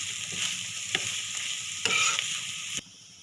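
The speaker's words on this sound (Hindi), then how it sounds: "अब इन सारी चीज़ों को मिक्स कर लेंगे अच्छी तरह।" A chicken and cheese patty filling with garlic powder, mustard powder and other spices is mixed in a bowl, giving quiet, soft scraping and stirring strokes in a few short bursts, with no talking.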